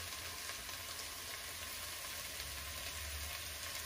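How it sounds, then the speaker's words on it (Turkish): Dried beans sautéing in a pan with a teaspoon of cumin for a Turkish kuru fasulye, giving a steady, even sizzle and crackle close by that runs throughout with no talking. "Şöyle fasulyem biraz kavrul."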